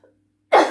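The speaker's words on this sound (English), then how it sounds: "I need to cough, excuse me." A single sharp cough, close and loud, following a brief moment of near silence.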